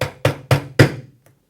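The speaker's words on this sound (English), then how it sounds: "using the rubber part of the hammer, just tap it down" A rubber hammer knocks an appliance housing leg into place on a Cooke & Lewis 600 standard housing: four quick, fairly close thuds, evenly spaced, then a faint final tap.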